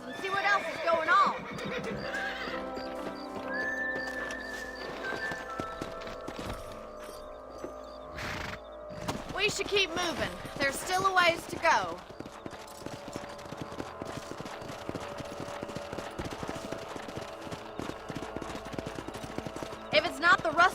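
Horses in the Red Dead Redemption video game whinny loudly near the start, then hooves clip-clop steadily as someone speaks over the riding, with music and ambient game sounds layered beneath.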